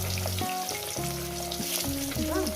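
Chela fish sizzle steadily as they fry in hot oil, a close, continuous crackle with no voices.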